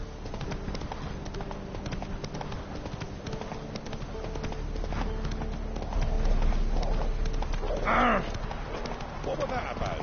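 A horse gallops in the video game The Witcher 3, its hooves pounding in a quick, steady clip-clop rhythm under voices and other game sounds.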